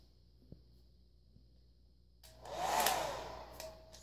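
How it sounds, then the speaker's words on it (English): A hair dryer switches on partway through, a rising whooshing hum of blowing air after a quiet start with a couple of faint clicks. "you also want to use a hairdryer like this."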